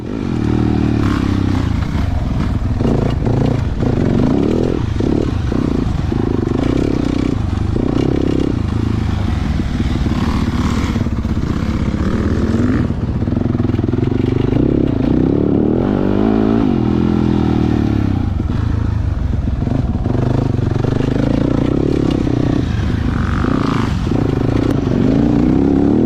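A motorcycle is ridden fast on a closed circuit during a technical riding course at Bure, its engine roaring loudly and continuously as it revs up and drops off through gear changes, with steady wind rush close to the rider.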